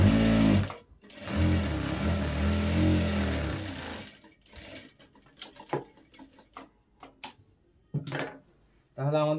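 A sewing machine runs in a fast burst along the sides of fabric, pauses, then gives several shorter spurts and scattered clicks of handling, fairly close.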